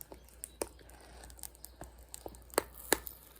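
Sharp scissors snip through plastic tape in a series of short, crisp, irregular cuts and crinkles, close up and fairly quiet, with no talking.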